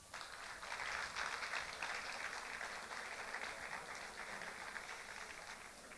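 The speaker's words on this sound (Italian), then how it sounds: "Un applauso." A theatre audience applauds at a presentation evening, a steady, even wash of clapping from many hands that carries on throughout at moderate, somewhat distant level.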